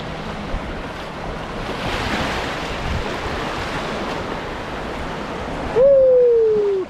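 Surf rolls steadily onto the beach at Treasure Island, Florida, a broad continuous wash of waves with wind noise, ending in a loud sustained tone near the close.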